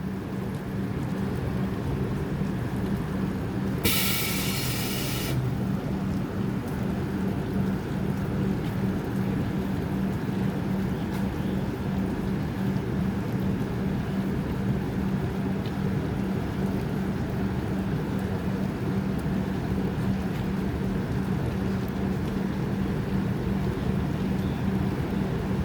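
Heavy rain and wind rush steadily outside a moving train, a dense, even roar lasting the whole stretch with one brief brighter burst near the start.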